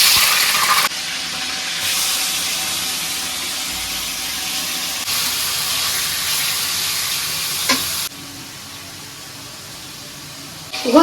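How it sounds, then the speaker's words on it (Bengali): Quail meat frying in hot oil in a pan, a loud continuous sizzle and hiss close up, with a few scraping stirs and a brief drop in intensity near the end. "এই তেলেই আমি গোস্ত ভাজিয়ে নেব।"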